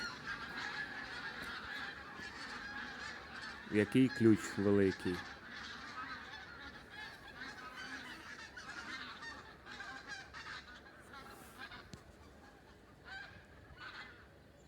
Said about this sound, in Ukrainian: Ви погляньте, як гусі летять.